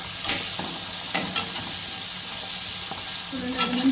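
Fenugreek leaves fry in a pan, giving a soft continuous sizzle with sharp scraping strokes of a spoon stirring them at intervals, heard up close with no talk.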